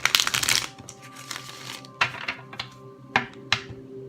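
A burst of card riffling at the start, followed by a few sharp, separate snaps and taps as the deck is squared up. No talking.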